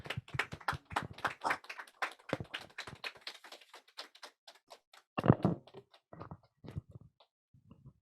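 Clapping from a seminar audience at a high school church event, greeting a speaker; irregular, loose claps pattering near and far for several seconds, with a louder burst midway before thinning out.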